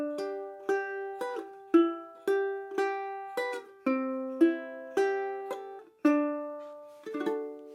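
Ukulele in reentrant tuning, picked one string at a time from low to high, playing chords for a song: about fifteen clear plucked notes in an even rhythm, each ringing and fading, close and alone.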